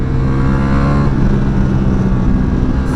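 Close, loud engine drone from a Ducati Multistrada V4 Pikes Peak, a 230 kg 180 hp V4 motorcycle, ridden on a mountain road: a steady, powerful roar holding near-constant revs with a slight shift partway through, plus wind rush and no voices.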